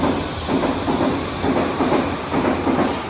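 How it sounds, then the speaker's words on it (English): Modern passenger train running, heard from inside the carriage as a steady broadband rumble and hiss with a faint rhythmic clatter of wheels, continuous and fairly loud. "These are the modern new trains they have."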